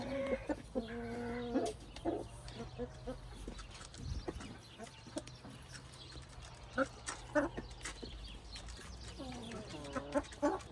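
Bantam chickens cluck in short, scattered bursts close by, with a few louder squawks, over low background noise and occasional faint Turkish talking.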